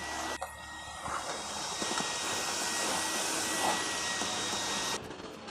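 A vacuum cleaner runs in a steady, loud whooshing hiss for several seconds, then switches off abruptly near the end.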